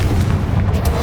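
Heavy booming blast of the Confringo explosive spell in Hogwarts Legacy, a short, loud, deep explosion filling the whole moment.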